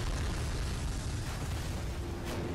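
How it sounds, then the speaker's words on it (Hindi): A bomb blast in an animated Skibidi Toilet fight gives a loud, dense, rumbling explosion that fills the whole short stretch with continuous booming roar. "किसने मेरे पर बम ब्लास्ट किया बे"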